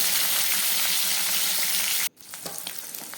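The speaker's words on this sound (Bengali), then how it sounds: "মাছের কাটাগুলো আমি এইভাবে ভেজে নিচ্ছি" Loud, dense sizzling of barramundi fish bones frying in a pan cuts off abruptly, followed by quieter crackling and a few clinks.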